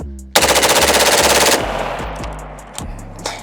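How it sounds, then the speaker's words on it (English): A rifle fitted with a 3-position forced reset trigger fires one rapid, loud, evenly pulsed burst for about a second, then echoes fade with a few scattered later shots. "That is a fast rate of fire out of that gun."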